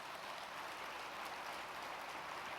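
Applause from an audience at a conservative political summit, spread broadly like rain as a dense, steady clatter of many hands, heard at a distance and fairly faint, with no talk over it.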